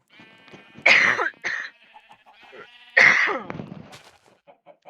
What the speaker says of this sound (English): still got a little bit of that COVID cough going on